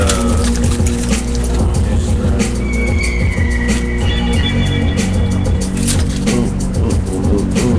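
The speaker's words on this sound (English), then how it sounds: "I'll rinse these out." Dirty items are rinsed under running water in a recording studio, a loud, steady splashing rush that goes on without a break, with faint clattering mixed in.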